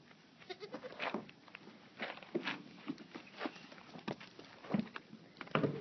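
A goat bleats in several short, close calls spread across the stretch, with soft footsteps and patter in between, recorded fairly quietly outdoors.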